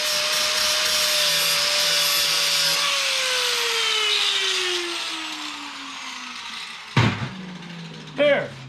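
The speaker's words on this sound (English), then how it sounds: "I just wanted to knock the sharp edges off and any burrs" A handheld grinder or sanding tool knocks sharp edges and burrs off welded metal on a fuel tank, a steady loud abrasive whine that winds down and fades, followed by two short scraping bursts near the end.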